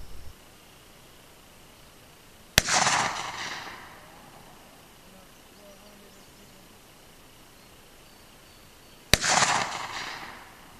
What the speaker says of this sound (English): After I take these 6 shots, I'm going to take another one at 100.